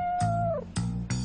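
A voice imitates a cat, giving a drawn-out meow followed by two short meows, close and clear within about a second.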